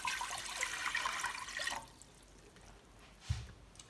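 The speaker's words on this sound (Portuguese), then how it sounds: "Vamos colocar a água." Water pours into a cooking pot for Portuguese aletria, a steady splashing stream for nearly two seconds, then quiet with a brief splash near the end.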